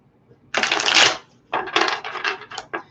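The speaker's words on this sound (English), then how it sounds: "All right, so let's shuffle these cards here." Tarot cards being shuffled during a live reading, heard as two close bursts of dense papery riffling, a longer one followed by a choppier series of quick flicks, with no talking.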